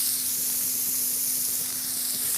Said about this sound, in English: I've just used half the grill with my burgers because I'm going to cook some of this beautiful bacon